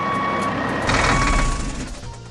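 An animated red tow truck arrives with a steady reversing beep, followed by a louder rush of truck engine and air-brake noise that fades out.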